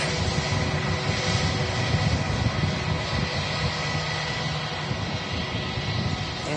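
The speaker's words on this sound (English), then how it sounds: "Here is that EasyJet A319 from Geneva" EasyJet Airbus A319 jet from Geneva at Manchester Airport, producing a steady, broad roar of engine noise at moderate distance that holds evenly with no speech.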